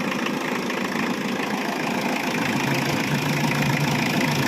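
A cold motorcycle engine idles steadily just after starting, a continuous loud mid-low rumble with a faint knock, no voices over it.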